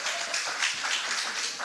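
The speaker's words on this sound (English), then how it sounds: "Really, a round of applause for all of you." Audience applause at a pharmacists' conference, a dense, steady wash of many hands clapping together, moderately loud and continuous with no talk over it.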